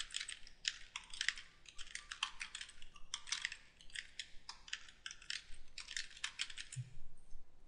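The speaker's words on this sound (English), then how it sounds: "Now I'm going to type in an email address." Rapid, uneven clicking of keys on a computer keyboard as an email address is typed, close and fairly quiet, with short pauses between bursts of keystrokes and no talking.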